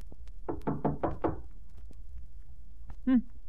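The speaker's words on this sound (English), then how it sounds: "Here, I'll knock on this door." Knocking on a wooden door in an audio drama, a quick run of five firm knocks, close and clear, followed by a brief pause and a short vocal sound.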